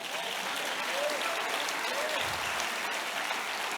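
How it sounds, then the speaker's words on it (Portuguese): Church congregation applauding during a sermon, a continuous wash of clapping heard at moderate distance, fairly even and unbroken, with faint voices under it. "Você pode aplaudir o Senhor?"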